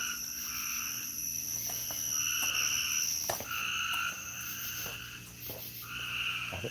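Frogs croaking at night in a pulsing chorus of repeated calls, with insects trilling steadily beneath, fairly near and continuous without any voices.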